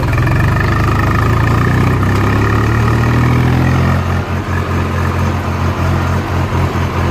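A vehicle engine runs steadily in third gear, a continuous mid-low drone that holds even, then settles into a slightly choppier, pulsing hum.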